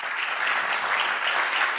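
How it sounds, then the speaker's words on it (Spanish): Congregation at an evangelical church service applauding together as an offering of praise, a steady dense wash of many hands clapping close by with no voices over it. "dele una ofrenda de palmas al Señor"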